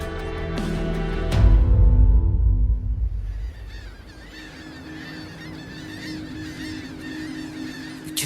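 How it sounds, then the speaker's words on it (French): Seabirds, seagulls calling over a beach in the morning, a burst of loud low rumbling followed by a steady chorus of repeated honking calls, moderately near and continuing without talk. "Qu'est-ce qu'elles font ces mouettes ce matin ?"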